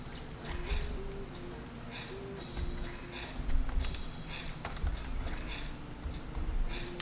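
Scattered keystrokes tapping on a PC keyboard connected to a Mac, quiet irregular clicks in short bursts over a low background hum.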